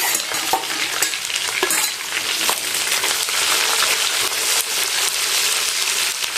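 Sliced onions fry and sizzle in a pan for Kerala chicken curry, with a steady close crackle and repeated stirring scrapes running throughout, no voices.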